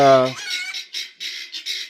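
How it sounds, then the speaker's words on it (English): A chicken clucks and squawks in a rapid series of loud, close calls, opening with a higher drawn-out note. "So I chased this chicken just for you guys"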